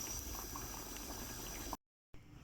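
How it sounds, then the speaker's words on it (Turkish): Steady bubbling and churning of water at a rolling boil in a pot holding sealed jars of canned beans, continuous and close, then a sudden brief silence before the bubbling resumes more faintly. "Kaynıyor arkadaşlar."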